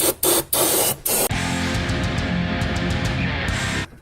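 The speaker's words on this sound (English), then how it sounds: "I'm going to bring in some brake clean." Brake cleaner sprayed from an aerosol can onto a Toyota engine while the valve cover gasket is being replaced: a few short hissing bursts, then one long steady close spray lasting several seconds.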